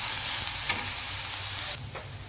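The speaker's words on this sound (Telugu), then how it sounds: "కొంచెం మగ్గనిద్దామండి ఉల్లిపాయ." Sliced onions soften in a hot pan, a steady close-up sizzle and crackle that runs the whole time, dropping slightly in level near the end, with no voices.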